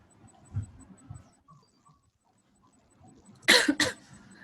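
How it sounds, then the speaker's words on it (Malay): A quiet room with soft low shuffling, then two sharp, close coughs in quick succession from a teacher with a week-long cough during a lesson, followed by faint background noise. "Cikgu dah batuk seminggu dah"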